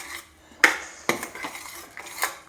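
A spoon clinks and knocks against a pot while pickle mixture is stirred after curry leaves go in: two or three sharp metallic taps over quiet scraping, close and fairly soft, with no voices.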